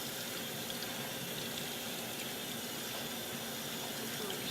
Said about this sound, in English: So we're just going to run some cold water over them.